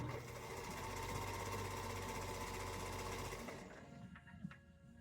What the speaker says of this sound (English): So I'm going to sew all the way to the end of this.